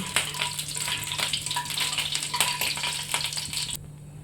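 Nigella seeds sizzling in hot oil for tempering, a loud, dense crackling hiss with stirring scrapes, close up, cutting off abruptly near the end.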